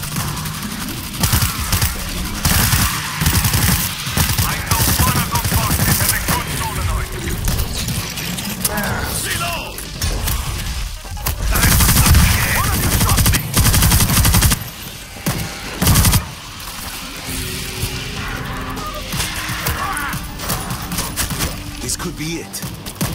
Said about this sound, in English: Automated turret is active.